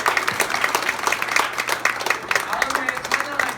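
Church congregation at a Salvation Army youth revival service applauding to welcome a visiting pastor and three students, dense steady clapping from a crowd under a speaker's voice.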